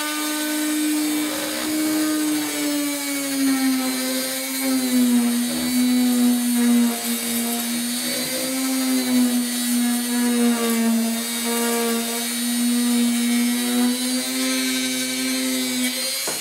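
A rotary tool bit grinds into a plastic model horse ear, a sustained high whine that wavers slightly as the bit bears on the plastic, heard alone and up close.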